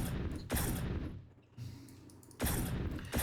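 A rocket launcher in a Unity first-person shooter fires and reloads: two loud blasts with long noisy tails, separated by quieter mechanical reload sounds, then a final sharp burst.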